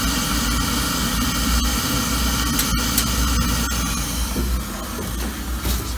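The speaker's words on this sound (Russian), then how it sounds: "Слышно, как идет пар." Hot steam hisses steadily and loudly from a heated sauna stove's steam generator in winter, a continuous close broadband rush with faint crackles and no talking.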